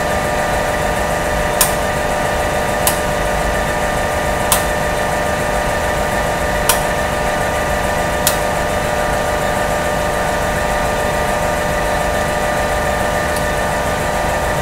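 A LabVolt synchronous motor runs steadily as load is added, giving a constant, loud electrical hum with a few faint, sharp clicks scattered through it and no voices.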